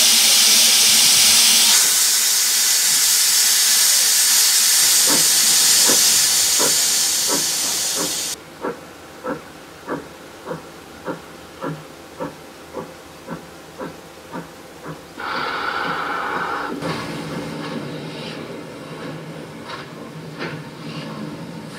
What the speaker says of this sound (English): the engine then returns to its train in order to shunt the horse box